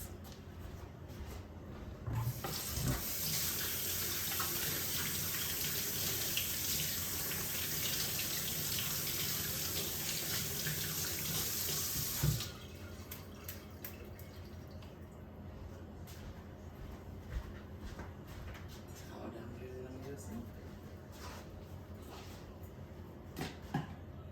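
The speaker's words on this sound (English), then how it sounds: "So bear with me while I wash my hands." A kitchen tap gushes steadily for about ten seconds while hands are washed, then shuts off, leaving faint clinks, drips and quiet room noise.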